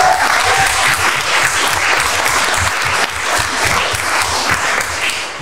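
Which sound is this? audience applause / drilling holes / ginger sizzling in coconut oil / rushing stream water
audience applause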